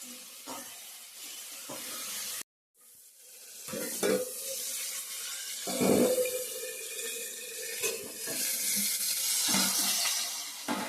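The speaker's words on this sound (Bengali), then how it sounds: "পেঁয়াজ শুকনো লঙ্কা আদা একটু পাঁচফোড়ন দিয়ে দিচ্ছি চিকেনটা দিয়ে দেবো এখন" Chicken frying in a pan with onion, dried red chilli, ginger and panch phoron, a steady hiss and sizzle broken by scraping stir strokes and a brief cutout, close and loud with no talking.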